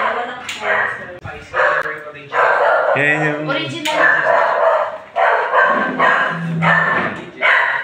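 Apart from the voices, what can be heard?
dogs barking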